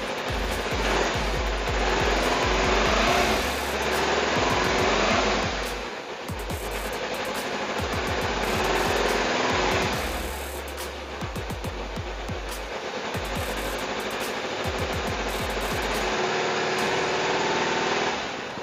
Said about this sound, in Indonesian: Ini saya coba mic-nya di sebelah sini biar kelihatan suara dari mesinnya